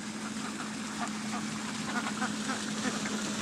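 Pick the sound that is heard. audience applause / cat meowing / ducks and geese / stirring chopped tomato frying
ducks and geese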